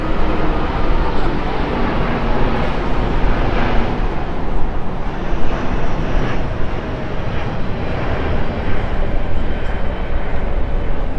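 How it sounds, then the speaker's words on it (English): A low-flying airplane passes over downtown Miami, a loud continuous broadband engine roar with wind noise, steady throughout while people talk. "Is it just me, or is that plane way too low?"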